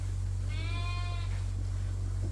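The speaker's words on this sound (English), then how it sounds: "in the front pen, we got some happy lambs participating in the daily lamb races" Lambs in a front farm pen give a single clear, tonal bleat lasting under a second, close and fairly loud over a steady low hum, then quiet.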